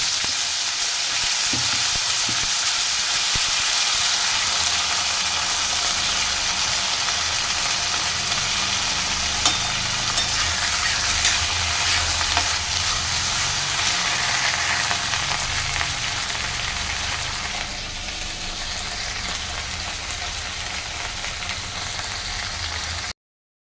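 Pointed gourd, eggplant and pumpkin frying in a pan after a burnt tempering, a loud steady sizzle running unbroken for over twenty seconds, easing slightly near the end, with no talking.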